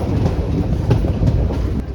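The Simhadri Express cruises at a constant 85 to 90 km/h, a loud continuous rumble of wheels on rails with faint periodic clicks from rail joints, heard from inside the train.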